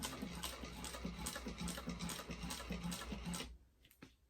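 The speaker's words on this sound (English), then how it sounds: "if you have a walking foot machine like mine, when you go to turn here, this part of the walking foot can really eat up the fabric" A walking foot sewing machine stitches fabric in a steady, rapid mechanical run for about three and a half seconds, then stops abruptly, leaving a couple of faint clicks.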